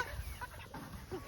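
Meat chickens on a homestead cluck in a quiet, busy flurry of short calls as they are loaded into a crate for butchering.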